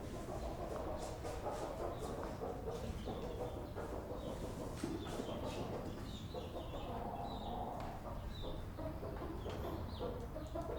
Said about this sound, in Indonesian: Burung merak dapat mengeluarkan beragam bunyi yang menggambarkan suasana hatinya.